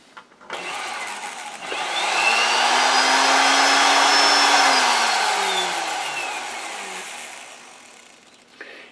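An air die grinder driving a portable bandsaw, hung from a clamp and run by a foot pedal, spins up to a steady high whine, holds for several seconds, then winds down. No one speaks.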